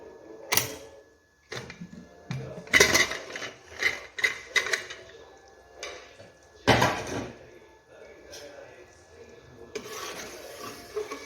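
A pressure cooker holding mutton vajdi is opened after its whistles, with irregular metallic clanks, knocks and rubbing of the lid and weight, some loud and close, separated by short quiet gaps.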